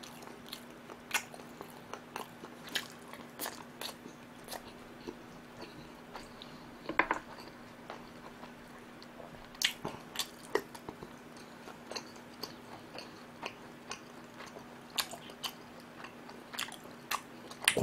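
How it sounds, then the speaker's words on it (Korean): Close-up chewing of tender beef chop steak, soft wet bites and mastication noises in an irregular rhythm over a quiet background hum, no talking. "고기는 꼭꼭 씹어 먹어야 돼요."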